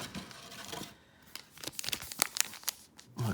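A Pokémon Shining Fates booster pack is torn open by hand. Crinkly foil rustles are followed by several sharp ripping bursts, close and fairly quiet, with no talking.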